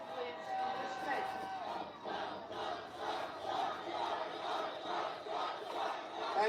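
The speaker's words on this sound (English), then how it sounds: "What a crowd." A large crowd at a rally roars and shouts in waves, a dense continuous wall of cheering voices rising and falling repeatedly.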